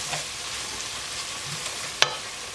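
Tomato paste is stirred into a gumbo base in a pan, giving a steady soft sizzle with faint scraping strokes and one sharp clink of the utensil near the end.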